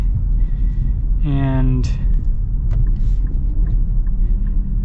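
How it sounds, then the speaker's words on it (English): A 2024 Nissan Pathfinder Rock Creek's V6 pulls uphill as a steady, deep rumble heard from inside the cabin, with a voice speaking briefly over it. "see how this V6 kind of performs getting up a little bit"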